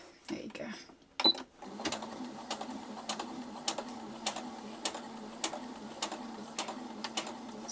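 A sewing machine hems the bottom of Taekwondo trousers with a steady rhythmic ticking stitch pattern, preceded by a couple of handling knocks and a brief clunk as it starts.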